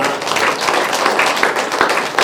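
An audience at a meditation and satsang gathering claps together, a dense, loud burst of applause lasting a couple of seconds.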